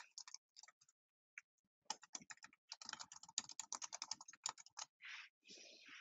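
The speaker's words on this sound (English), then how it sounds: "In the top search bar, type in your website's URL." Quiet keystrokes on a computer keyboard tap out a website address, sparse at first then a quick close run of clicks, all fairly faint.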